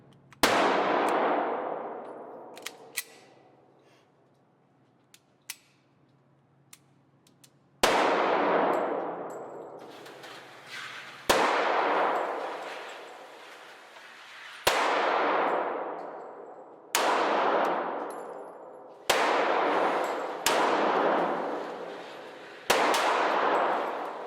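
A Beretta 92FS handgun fires about eight sharp, loud shots spaced a few seconds apart, each one trailing off in a long ringing metallic decay. No one speaks.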